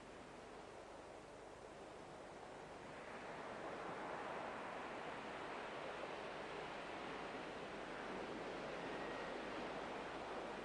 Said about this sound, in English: we have waves that we can see